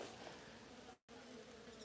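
Steady droning buzz of many bees cleaning leftover honey from old hives whose colonies died, broken by a brief dropout in the middle.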